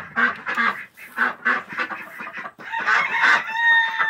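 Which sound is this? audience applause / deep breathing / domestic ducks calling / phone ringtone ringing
domestic ducks calling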